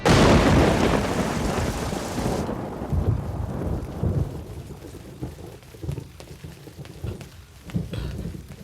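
Heavy rain pours down in a storm, loud and dense at first with a thunder rumble, then easing to a steady patter of drops on surfaces with occasional low rolls of thunder.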